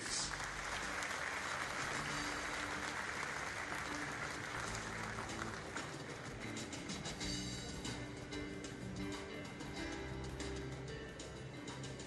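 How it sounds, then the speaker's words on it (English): Sustained applause from a large crowd at a business and community event in Singapore, steady and continuous throughout, heard from a distance with a dense, even texture. "Join me in giving them another big round of applause, please."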